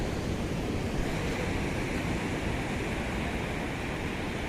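Steady surf of waves washing onto a beach, a continuous broadband roar with wind noise on the microphone, fairly loud and alone with no voices.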